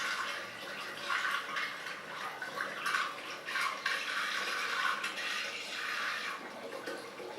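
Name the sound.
hard cider pouring into a carboy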